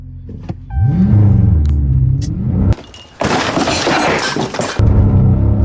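A 2022 Dodge Challenger Widebody Scat Pack launches on a wet road, its engine rising from a deep rumble into a loud, roaring burst of acceleration with broadband tire and exhaust noise, briefly cutting out before surging again, close up.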